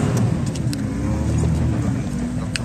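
A car drives up a mountain road on the way to Kandol Lake in Swat, a steady loud engine rumble and road noise filling the cabin without pause, with faint rattles and clicks.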